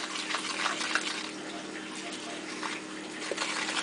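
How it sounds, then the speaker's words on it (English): Liquid pours steadily into a pan of homemade gravy being made for Salisbury steak patties, a soft continuous gushing close by with no talking. "I'm going to add some liquid to it."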